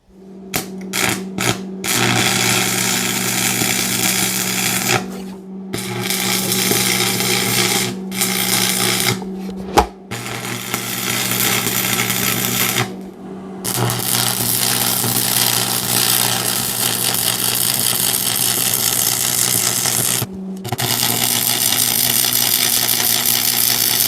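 Welding on steel pipe stakes for a flatbed trailer, a steady buzzing electrical hum and crackle that runs for long stretches, broken by several short stops and restarts.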